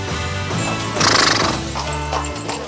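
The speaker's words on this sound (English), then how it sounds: "Horse traffic." Horses in Jordan whinny loudly close by, one sharp neigh standing out, while hooves clip-clop on hard ground in a short burst of street traffic.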